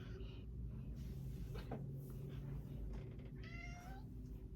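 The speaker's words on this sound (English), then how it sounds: "that's my cat" A cat meows a few times, close by, with a rising, wavering call near the end over a steady low hum.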